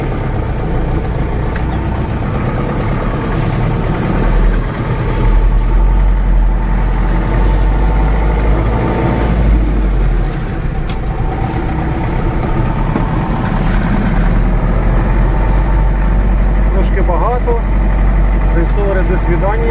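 A ZIL-130 truck hauling sand and crushed stone drones loudly and steadily throughout, a deep continuous engine rumble with no pauses.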